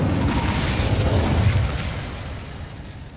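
Explosive spells go off in Hogwarts Legacy as a dense, loud, continuous rumbling roar that fades slightly toward the end.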